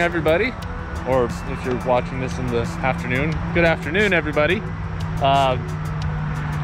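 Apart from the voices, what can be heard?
highway traffic noise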